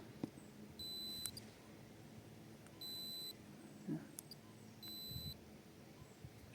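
Three short high electronic beeps at steady intervals as a Sequre S99 soldering iron powers up, separated by quiet pauses, with faint clicks and low background hum in between.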